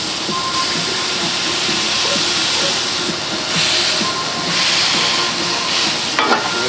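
A smashburger patty sears on a hot griddle, a loud, steady broadband sizzle and hiss held throughout with faint crackles and a brief scrape near the end.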